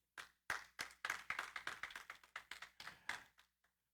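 Sparse hand claps from a small audience at a Mother's Day gathering, a dozen or so sharp, separate claps in a loose, uneven rhythm, fairly faint and alone.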